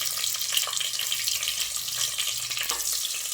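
Mustard seeds, curry leaves and onion fry in hot oil with a dense, close, continuous sizzle and crackle throughout, with no talking.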